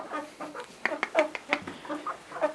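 Chickens cluck in short, uneven bursts, several birds close by, with quick chattering notes overlapping.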